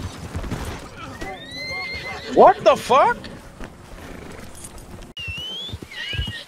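A horse in a video game neighs and whinnies loudly in a short, bright burst mid-clip, with hoof clip-clops and game noise around it, while someone talks and swears over the scene.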